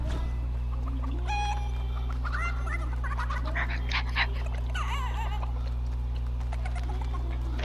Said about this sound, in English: I have to chase after a chicken.